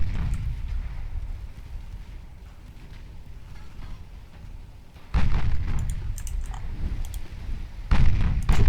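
Naval guns of 8-inch calibre firing in the warship game Ultimate Admiral Dreadnoughts: a continuous low rumbling barrage, then two louder booming salvos close by near the end.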